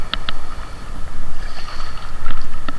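Steady wind rushing over choppy open sea with a constant low roar, a few light knocks and splashes from a small fishing boat rocking on the waves.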